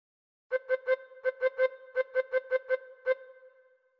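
A tin whistle plays a phrase of Old MacDonald Had a Farm: about a dozen short, crisp tongued notes in a quick bouncing rhythm, close and clear, ending with a brief fading tail.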